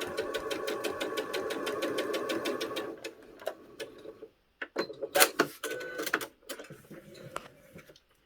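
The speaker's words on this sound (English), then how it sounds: "We're going to stitch all the way straight down that one side." A sewing machine stitches a straight quarter-inch seam down a quilt block, a steady rapid needle chatter for about three seconds, then stopping and giving way to scattered clicks and handling knocks nearby.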